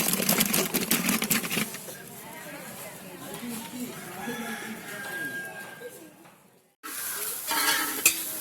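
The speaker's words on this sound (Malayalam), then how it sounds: "സാമ്പാറിന്റെ കഷ്ണങ്ങളും എല്ലാം ഇട്ടിട്ട് ഇപ്പോൾ ഇളക്കിക്കൊണ്ടിരിക്കുകയാണ്." Outdoors, sambar vegetables including okra are stirred in a pot over a fire. Scraping and stirring sounds and a soft sizzle come in bursts, with a person speaking over them.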